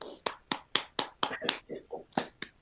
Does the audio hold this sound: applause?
yes